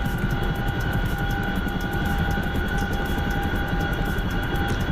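Chinook helicopter in flight, pushed close to blade stall, giving a steady, loud, unbroken drone of rotor and engine noise with a constant whine running through it and no voices.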